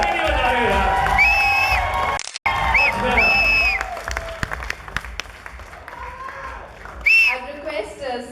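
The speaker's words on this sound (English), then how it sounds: "huge round of applause for all of them" Crowd applause and cheering for the Happy New Year star cast at a Shahrukh Khan event, loud clapping with whoops under music and voices, briefly cutting out before resuming and thinning toward the end.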